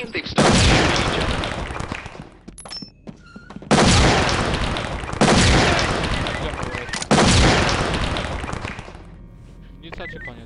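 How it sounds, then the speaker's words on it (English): Bursts of loud, close gunfire in the tactical shooter game SWAT 4, several heavy volleys separated by short gaps, with a voice talking underneath. "We think they've started shooting each other."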